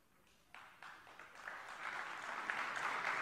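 A political rally crowd breaks into applause that starts after a short pause, then swells and keeps building into sustained clapping and cheering.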